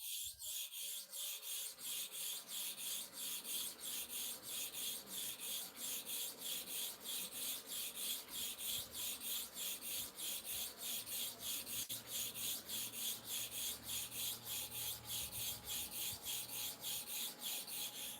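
Steady rhythmic rasping as a Starex clipper blade is rubbed back and forth during sharpening, a fast even series of strokes continuing close and alone for the whole stretch.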